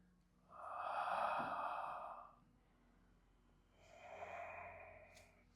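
Steady yoga breathing held in a revolving side angle pose during a power yoga class: one long, soft, airy exhale, a quiet pause, then a second breath, close and with no talking.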